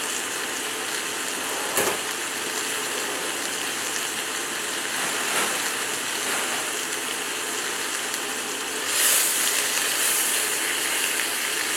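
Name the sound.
greens sautéing in oil in a pan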